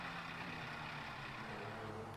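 The engine of a Mercedes-Benz E Class turreted limousine in GTA Online idles, a low, steady, quiet rumble with no change in pitch.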